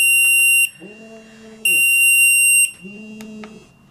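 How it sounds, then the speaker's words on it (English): High gamma alarm from a D5 RIID handheld radiation detector, triggered by a source brought close: a piercing electronic tone sounds in two long bursts, with a person talking quietly in the gaps between them. "you can see the high gamma alarm"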